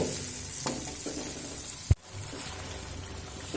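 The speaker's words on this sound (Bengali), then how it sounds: "খুব সুন্দর করে মশলাটা চার থেকে পাঁচ মিনিট কষিয়ে নেব" Spice masala with turmeric and a little water cooks in a pan, producing a soft, steady sizzle with a single sharp knock midway, close and fairly quiet.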